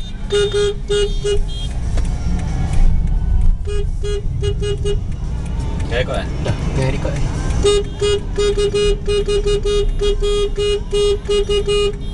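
Perodua Myvi Advance 1.5, a 2015 hatchback, drives steadily in a convoy with a continuous low engine and road rumble, while a high chiming tone and cabin sounds repeat over the drive and a person talks.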